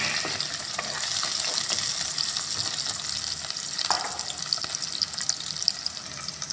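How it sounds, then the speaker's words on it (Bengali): Chopped onion fries in a pan for a dried-fish and brinjal curry, giving a steady, close, hissing sizzle that holds throughout, with a few faint clinks near the end and no talking. "এখন পেঁয়াজটা একটু ভেজে নিই"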